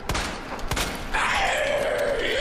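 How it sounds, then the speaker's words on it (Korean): Grenade explosion in the video game Resident Evil 2 remake, a quick cluster of sharp blasting thuds followed by a sustained ringing, droning tone after the detonation. "수류탄 또 이렇게 쓰네"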